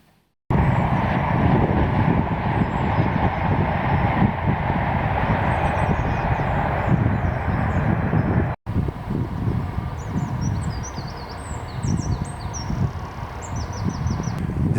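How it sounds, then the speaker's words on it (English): Trains rumble steadily across a local viaduct on the line into London Paddington, a loud continuous roar and rattle with a brief break, then the rolling noise resumes with faint high squeals. "This is our local viaduct where the trains that go into London Paddington go."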